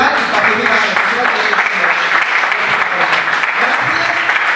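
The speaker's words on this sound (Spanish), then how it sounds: "un aplauso para todos los que ayudan en el festival y participan en el festival" An audience at the closing ceremony of the Asturian film festival in Gijón applauds loudly and continuously, a thick wash of many hands with some voices mixed in.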